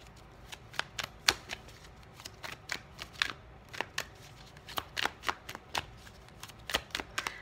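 Tarot cards being shuffled close up in quick, uneven bursts of crisp snapping riffles, over a dozen sharp card slaps spread across a quiet background.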